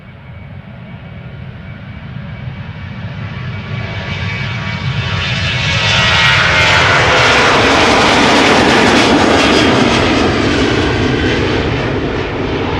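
A 23-year-old Boeing 737-800 jet airliner, registration PH-BXN, passes with a broad engine roar that swells steadily over several seconds to a loud peak and then begins to ease, heard alone without talk.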